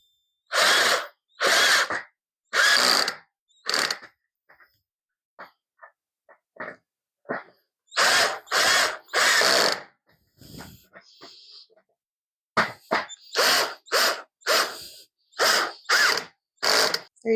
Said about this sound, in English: how nice and tightly these joints come together once you get the screws tightened down